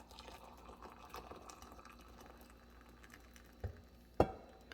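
Boiling hot water poured into a measuring cup, a low steady pouring wash with light splashing, ending in a couple of sharper knocks as the vessel is handled.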